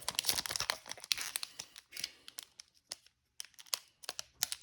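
A Dragon Ball trading card booster pack being torn open by hand: close, irregular bursts of foil crinkling and ripping with short pauses in between.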